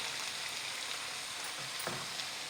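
Onions for chicken curry, half cooked, sizzle softly in a pan with a steady fine hiss and a light scrape or stir near the end, quiet and close.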